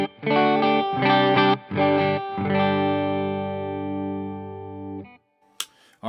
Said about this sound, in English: This is the clean channel of the Blue Guitar Amp 1, and this is on the middle position.